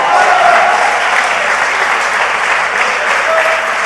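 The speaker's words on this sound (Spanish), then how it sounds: "Alguien déle un aplauso a Jesús." A church congregation bursts into loud, sustained applause, a dense close wash of many hands clapping continuously with a few faint voices underneath.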